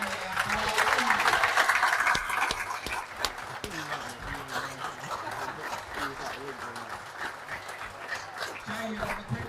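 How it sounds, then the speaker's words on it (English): Applause and cheering from the crowd at a Cornwall vs England darts masters and professional event, loudest at the start and settling into steady clapping with voices mixed in. "So a big round of applause again, please, for Eoin Yow."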